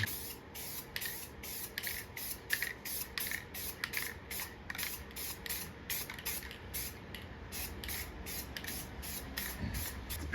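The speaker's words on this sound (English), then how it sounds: "We're gonna spray a little guide coat now." Black sandable guide coat spray paint being applied to a Subaru WRX roof, a series of short, close hissing bursts in quick, regular rhythm over a quiet room background.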